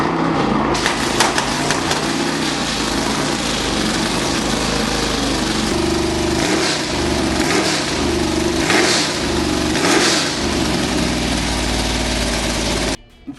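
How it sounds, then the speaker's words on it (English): A McLaren M20 Can-Am race car with a Chevy V8 fires up and runs loud and close, a rough idle broken by repeated throttle blips that rise and fall before it cuts off abruptly near the end. "why don't we listen to the final car on this list, the McLaren M20."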